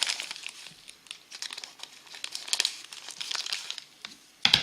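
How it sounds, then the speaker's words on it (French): A plastic bag holding parts for a digital alarm clock kit crinkles and rustles as it is handled and opened, a close, irregular crackling that ends with a sharper snap. "Donc on va l'ouvrir, le sachet."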